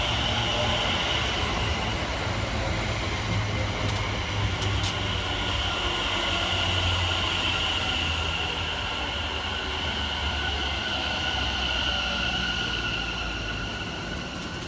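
A continuous roar of two Class 730 electric trains passing close by through Barnt Green station, with rumbling wheels and a faint high squeal, steady throughout.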